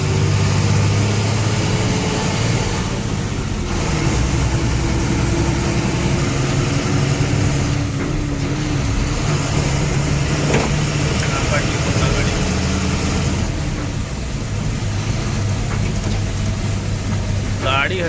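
A vehicle rumbles steadily as it jolts along a rough, bumpy road, a continuous loud engine drone with low thumps and rattles from the uneven surface, with voices talking over it.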